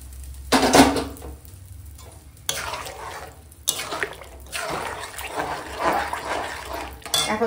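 Fried tempering goes into a pot of vegetable lentil dal: a metallic pot clank, then bursts of splashing, hissing pour and bubbling liquid, fairly close.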